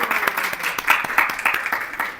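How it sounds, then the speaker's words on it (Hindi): Short burst of audience applause at a spiritual talk session, dense overlapping hand claps with no voices. "आप सभी के लिए एक बार ताली बजाइए।"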